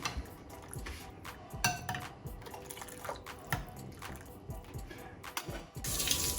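Spoon stirring leek or coriander soup made from base broth in a pot, with clinks of utensil against the pot and liquid sloshing and dripping in an uneven, close rhythm, no talking.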